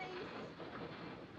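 Steam-era passenger train pulling out of a station in 1940s Munich, a steady close rumble of rolling carriages with faint clatter throughout, no voices heard.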